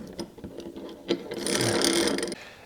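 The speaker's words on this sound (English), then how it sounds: "we can demonstrate that with this C-clamp here" A C-clamp being cranked down on a precision gauge gives a run of small mechanical clicks and scrapes, then a steadier grinding stretch of about a second, close and fairly quiet with no talking.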